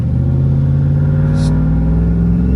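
A turbocharged RAM 1500 Hemi pickup drives along with a steady, loud, deep engine drone and a constant rumble, no voices over it.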